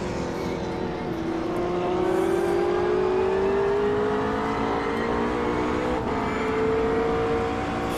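Race cars including a McLaren in Automobilista 2, a steady close engine drone rising slowly in pitch under acceleration, sustained throughout with a faint bump near the end.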